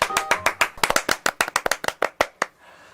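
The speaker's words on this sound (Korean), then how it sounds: "자, 다 같이 박수로 한번 맞아보도록 하겠습니다." A small group of people clap in a studio to welcome a guest clarinet player, giving a brief burst of sharp, close handclaps that lasts about two and a half seconds and then stops.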